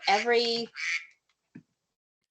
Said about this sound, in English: pardon my quacking phone